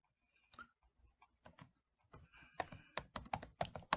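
Typing on a laptop keyboard: a quiet, sparse scatter of key taps that picks up into a faster, louder run of clicks near the end, close and alone with no talk.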